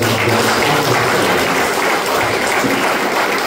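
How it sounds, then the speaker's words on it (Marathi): Loud, sustained clapping from a church congregation during worship, a dense and steady wash of many hands applauding together with no pauses. "जोरदार टाळ्या देत"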